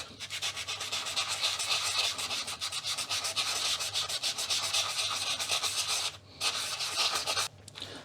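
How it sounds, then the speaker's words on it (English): Sandpaper rubs back and forth on the plastic RF modulator cover of a Commodore Amiga A1200 in rapid steady strokes, close and loud, briefly pausing twice. "The cover for the RF modulator didn't respond very well to the vinegar, so I need to sand it down a bit,"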